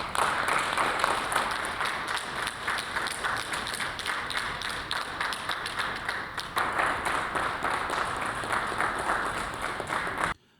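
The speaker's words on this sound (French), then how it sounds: "Le chef d'orchestre est applaudi à son arrivée par le Premier ministre et l'ensemble des membres du gouvernement." Ministers and the Prime Minister at a Council of Ministers meeting applaud the arriving head of state with steady, dense clapping from a room full of people, sustained for about ten seconds before stopping abruptly.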